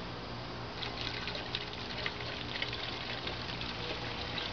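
Water poured from a container into a vessel holding diethyl ether during a solvent extraction, a steady continuous liquid rush and trickle, close and fairly faint, with no voices.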